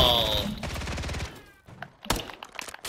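A rapid, evenly spaced burst of automatic fire from an AR shot from the hip in a Call of Duty match, loud and close, then a pause and a few scattered shots and thuds.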